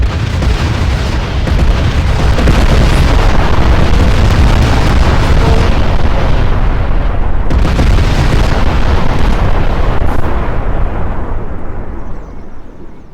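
Bomb explosions from the gbombs addon in Garry's Mod, a loud continuous roaring blast rumble that holds for many seconds, briefly dips, then surges again before fading at the end.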